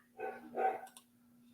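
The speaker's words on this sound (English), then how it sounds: "That was my dog barking." A pet dog indoors lets out a short double bark, moderately close but fairly quiet, over a faint steady hum.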